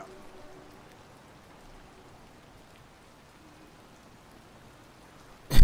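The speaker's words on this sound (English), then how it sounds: "Raindrops keep falling on my head. Well, at least in this case on the car." Steady rain pattering on a car in the Detroit: Become Human game, a soft, even hiss of drops that holds throughout before a sudden loud burst at the very end.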